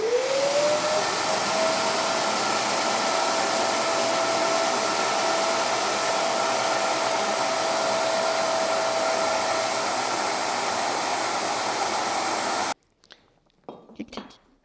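Vacuum pump drawing maple sap through a filter during sap-to-syrup processing, a loud steady whine that spins up at the start and runs evenly for about twelve seconds before cutting off, followed by faint handling noises.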